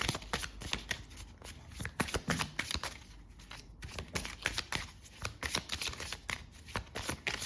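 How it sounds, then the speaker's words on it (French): A deck of cards is shuffled up close, with steady, rapid riffling and flicking that continues for several seconds with only brief pauses. "Je vais les mélanger."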